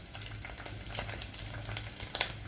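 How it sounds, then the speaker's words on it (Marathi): Ginger-garlic paste and home-ground spices with turmeric frying in hot oil for dum aloo, a steady close sizzle with faint stirring scrapes throughout, no voices. "आता ह्याला छान आपण तेलामध्ये परतून घेऊ"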